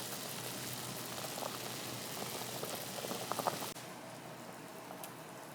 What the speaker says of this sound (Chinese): 姜母鸭滚了，啵啵啵啵啵啵的声音。